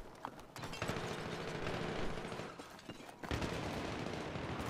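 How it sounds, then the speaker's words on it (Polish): Distant gunfire crackles in Battlefield 3, a dense run of rapid shots and bursts over continuous battlefield noise, fairly faint, with no talk. "Słyszę dźwięki wystrzałów"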